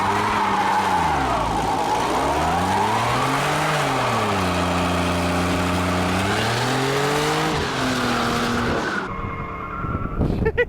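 A Mercedes SLK32 AMG roars through a long, loud burnout, its engine note rising and falling under sustained tire squeal, then cutting off abruptly near the end with a brief clatter.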